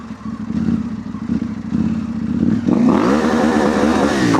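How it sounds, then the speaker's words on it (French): A KTM 890 Rally motorcycle revs hard and close, its engine note rising sharply near the end as the throttle opens wide and the rear wheel spins in greasy mud, with clattering underneath. "dès que je mets les gaz en grand, ça patine vraiment d'une de ses forces, tellement le terrain est gras dessous"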